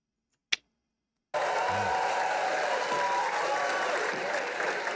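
After a brief sharp tap and a moment of silence, a rap battle crowd breaks into steady, dense applause that continues to the end.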